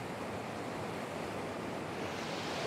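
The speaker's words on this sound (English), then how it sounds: "Just gotta wait for the waves to crash up" Ocean waves surging against jutting rocks at Burleigh Heads, a continuous broad roar of surf and wash, steady and fairly distant with no voices.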